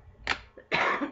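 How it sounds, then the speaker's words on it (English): A single short cough followed by a rougher second cough, close and clear, from someone with a lingering flu in a home kitchen. "Still got just a little bit of cough."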